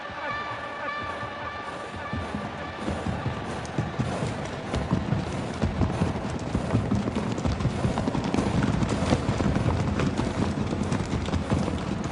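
Horses galloping in a race: a dense, steady drumming of many hooves on the track, loud and continuous, with a roaring crowd or wash of noise building around it.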